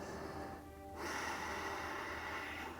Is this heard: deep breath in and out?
yes